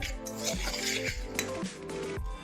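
A spoon mixes turmeric into a semolina and flour batter in a bowl, and several bright clinks and knocks of metal on the bowl ring out in quick succession, close and clear, with no voices.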